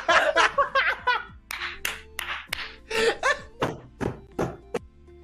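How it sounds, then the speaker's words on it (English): Rapid, uneven bangs on a table, a dozen or so loud thumps in quick bursts, with brief snickers and laughter mixed in between the hits. "That was very insightful table banging"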